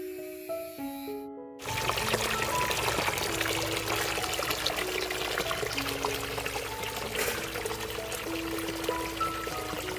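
Water pours steadily for bathing at an outdoor spot with plentiful water, a loud continuous splashing gush that starts abruptly after a brief quiet opening with music and runs unbroken to the end.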